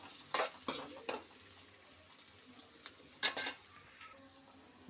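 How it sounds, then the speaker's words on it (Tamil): Chopped onions stir-fried in a pan for a curry-leaf chicken dish, a faint steady sizzle broken by several sharp scrapes and clinks of a spoon against the pan. "வெங்காய பச்சை ஸ்மெல் போகிற அளவுக்கு நம்ம வதக்கினே இருக்கணும்."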